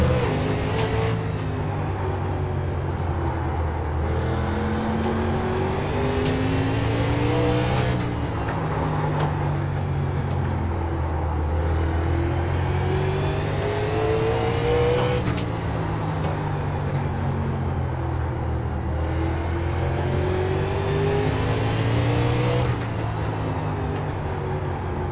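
Race car engines accelerating at a green flag start at Lanier, heard from inside a car: loud, continuous engine roar climbing through repeated gear-shift sweeps, each rise cut off and restarting, with no talk.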